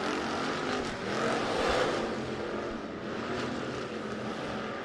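Hobby stock cars racing in a heat race at Rapid Speedway, a dirt track: a steady, dense engine roar from several cars that swells and recedes slightly, heard from a distance with no voices over it.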